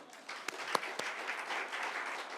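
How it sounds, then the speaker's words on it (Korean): Soft, distant audience applause at a public lecture hall event, a few distinct claps rising into a steady low patter of hands. "저기 박수 좀 부탁드립니다."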